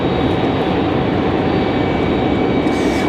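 Delta flight 1518 airliner at Raleigh-Durham International Airport, a loud, steady, broadband jet engine roar that fills the whole clip without breaks and stays close and constant.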